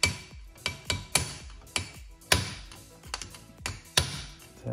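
A hammer tapping a key out of the crankshaft of a John Deere LA115 lawn tractor, about eight sharp metallic taps at uneven intervals, close and crisp with short ringing decays, no talking.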